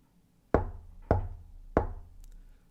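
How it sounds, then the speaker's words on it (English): Three evenly spaced knocks land on a wooden door, each a sharp, solid thud with a short resonant decay, fairly close and alone against a quiet room. "The knocking came again."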